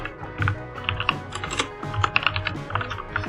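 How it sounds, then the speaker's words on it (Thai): Rapid keystrokes on a computer keyboard while typing Python code, a close, busy run of uneven clicks and taps with no voices. "ลองพิมพ์ประมาณนี้นะครับ"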